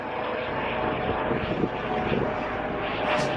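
A black helicopter circling over Cardiff at night sends down a steady, droning rotor and engine roar, fairly loud and continuous overhead with slight swells, and no other sound on top.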